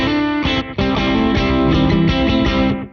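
An electric guitar plays distorted sustained chords and notes through a Matchless speaker cabinet simulation on a Mooer Radar unit, loud and close, with a brief break between phrases.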